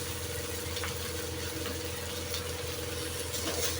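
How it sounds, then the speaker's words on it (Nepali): A steady, low mechanical whir like an electric fan running, constant and unchanging throughout with no voices. "फ्यानको आवाज आएको होला, फ्यान"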